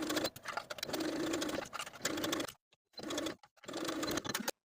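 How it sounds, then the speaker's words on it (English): A sewing machine stitches a dress hem in fast running bursts, loud and close, with a couple of short pauses between runs and no talking. "we can sew the hem in place using a twin needle, your cover stitch machine, or just a regular wide zigzag stitch"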